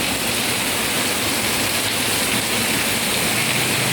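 Dense, steady hiss of heavy rain pouring down, loud and continuous without a break, like water drumming hard on a roof or pavement.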